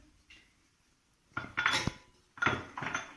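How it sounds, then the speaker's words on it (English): A utensil scrapes and clinks against a bowl as pancake batter is mixed by hand, two bursts of close clattering after a quiet start, with no talk. "Now once again I am just mixing normally, manually with my hand."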